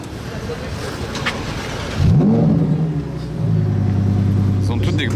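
Sports cars including a Mercedes C63 AMG and BMW M4 starting up, one engine firing with a sharp rising rev, then a loud steady idle rumble and a second revving surge, with people talking over it.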